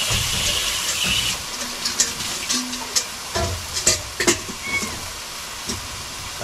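Bamboo shoots sizzle in a pan and are stirred, giving a steady hiss with scattered scrapes and clinks close by; heavy rain may be falling in the background.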